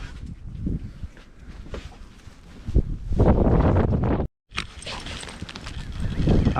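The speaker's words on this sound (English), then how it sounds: "It's really windy too." Strong gusting wind during a March snowstorm outdoors, roaring and buffeting close to the microphone in uneven surges with a brief dropout, while a person talks now and then.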